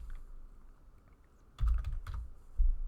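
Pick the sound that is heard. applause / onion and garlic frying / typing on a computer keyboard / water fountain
typing on a computer keyboard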